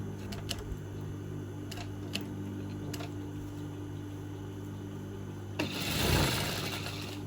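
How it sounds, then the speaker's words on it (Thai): A sewing machine stitches lace around a smocked pillow, running with a steady hum and light periodic ticking, then a louder, rougher burst of rustling near the end. "ติดเย็บไปอย่างนี้นะคะ รอบ ๆ หมอนสม็อกนะคะ"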